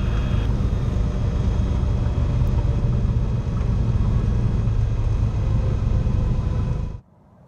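Loud, steady engine and propeller roar of a small airplane in night flight over Nashville, heard close and continuous before cutting off abruptly at the end.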